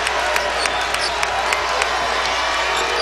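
A home crowd at a Louisville Cardinals versus Kentucky college basketball game cheers and claps after a basket, a dense roar of voices with scattered sharp claps and whoops, loud and sustained.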